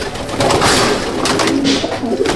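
Many Andhra and Malwai pigeons in a large loft coo together at midday, a loud, dense and continuous chorus of overlapping throaty calls with rustling.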